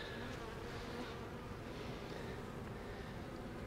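A tiny swarm of honey bees hums in a steady, dense drone, close and unbroken for a few seconds with no other sounds over it.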